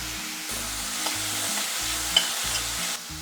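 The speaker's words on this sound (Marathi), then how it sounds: "त्याच्यामध्ये आपण आता हे उकडलेले वाल घालूया" Boiled val beans stirred into fried coconut and hing in a pan, giving a steady, close sizzle with soft scraping strokes from the spoon.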